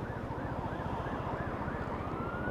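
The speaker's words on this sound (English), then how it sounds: "I can hear a siren" A wailing emergency-vehicle siren rises and falls in a regular cycle, heard from a Lexmoto Titan motorcycle riding in fog and ice, fairly distant over the constant low rumble of engine and wind.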